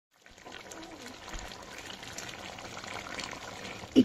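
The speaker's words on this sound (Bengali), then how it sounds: "এবার এর মধ্যে দেবো জল দিয়ে দেবো" Water is poured into a pot of chicken and potato curry, a soft continuous splashing and gush that runs steadily for several seconds at moderate level, ending with a brief louder clatter.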